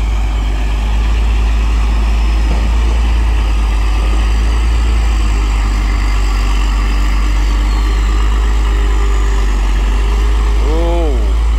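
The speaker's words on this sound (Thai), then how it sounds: "สโลว์เลยครับช้ามากนะครับเครื่องยนต์ไม่ได้เร่งเลยครับ" A new Victor 260 truck with its diesel engine idling slowly, a heavy continuous low rumble close by for the whole stretch, with someone talking over it.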